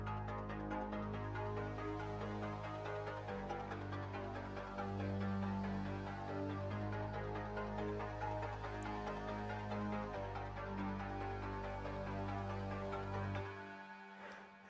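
An FL Studio music track built on layered, slightly detuned chords over a steady low bass, playing continuously and evenly before cutting off near the end.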